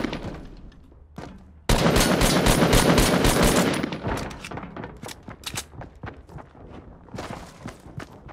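Enemies fire guns in Fortnite: a sudden loud burst of rapid automatic fire that rattles on for a couple of seconds, then gives way to scattered single shots and thuds nearby.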